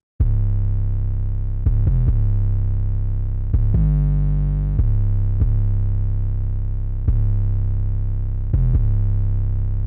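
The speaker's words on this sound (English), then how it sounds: "in this track, I've got this sub 808 here" A deep sub 808 bass in a trap track booms in long sustained notes, about eight hits with one pitch change midway, each note restarting with a sharp attack and ringing on loud and alone.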